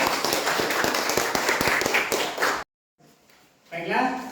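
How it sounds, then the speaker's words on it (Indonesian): A classroom of students claps for a student group after its presentation, a dense burst of hand claps lasting about two and a half seconds, then a short silence and some voices. "Tepuk tangan buat kelompok."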